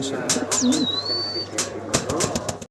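Fantail pigeons at a pigeon farm: low, soft cooing near the start, then a long high whistle-like call and scattered sharp clicks or taps in a busy loft.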